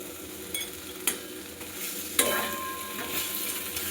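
A drumstick flower curry sizzles softly in the pan after raw mustard oil is added, with an even low hiss broken by a few sharp clinks of a spoon stirring.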